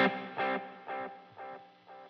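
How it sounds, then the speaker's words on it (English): Guitar delay repeats from a Line 6 Helix run in series into reverb, so each echo carries a reverb wash. Four or five evenly spaced repeats fade steadily over a sustained, slightly distorted tone, with no talking. "So we can hear the delayed repeats going through the reverb, and they have reverb on them."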